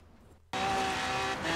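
Maserati engine in Forza Horizon 3 surging in abruptly after near silence, a loud close steady roar with a rich harmonic whine held for about a second.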